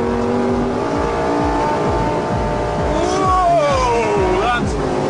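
A Lamborghini engine roars loud and close while the car drifts through a corner, revving in repeated rising surges as power is fed in progressively, with a voice faintly under the engine.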